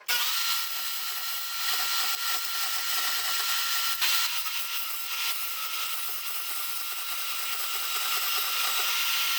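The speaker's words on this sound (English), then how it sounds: "Now we're going to take it to the portable bandsaw and cut it out." A portable bandsaw cuts through aluminum in a continuous high, gritty metallic whine that holds steady and loud for several seconds, with no talking.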